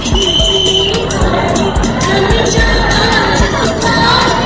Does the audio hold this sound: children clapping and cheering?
yes